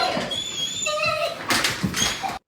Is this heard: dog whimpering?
yes